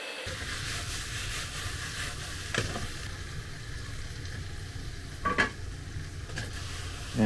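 Beef and vegetables cook in sauce in a pan with a steady, close sizzling hiss that runs throughout, broken by a few brief utensil clatters.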